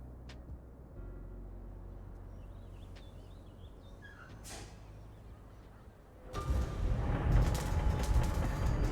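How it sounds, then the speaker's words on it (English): Train yard ambience in the city-building game Cities: Skylines: quiet, faint mechanical creaks and clanks at first, then a louder, dense rumble of rail machinery that swells up near the end. "Here, a train yard should be noisy"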